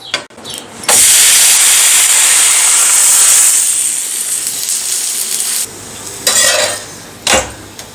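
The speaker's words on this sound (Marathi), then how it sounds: "असं कमी गॅसवरती छान खरपूस भाजून घेऊया दोन्ही बाजूनी आपलं थालीपीठ छान खरपूस भाजलेलं आहे" A ragi thalipith flatbread roasts on a pan over a low gas flame, giving a steady loud sizzle and hiss with scraping and spatula clinks, then quieter stretches broken by short bursts of sizzling.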